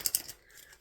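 Quick riffle of tarot cards being shuffled, two crisp snapping bursts followed by softer papery slides, close and brief with no talking.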